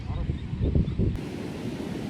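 Ocean surf crashing onto the beach at Puerto Escondido, a big-wave surfing spot, heard as a loud, steady wash of broadband noise with a swelling roll midway, close and continuous with wind on the microphone.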